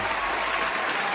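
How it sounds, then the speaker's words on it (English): A short burst of crowd applause, dense and fairly loud, with steady clapping and no voices over it. "Applaud."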